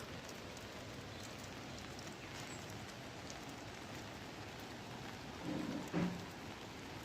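Monsoon rain falling steadily on a paddy field in the Konkan during rice sowing, an even dense hiss of drops throughout with a brief louder patter near the end.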